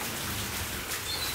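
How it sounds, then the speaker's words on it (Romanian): Steady rain patters on surfaces as it eases off over rice terraces, a dense even wash with faint birds chirping in the background. "ploaia parcă s-a potolit"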